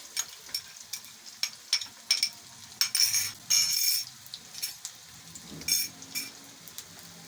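Chopped onions hit hot oil in a pan for an aloo shorba curry, giving a crackling sizzle broken by irregular metallic clinks and scrapes of a spoon, fairly close with no voices.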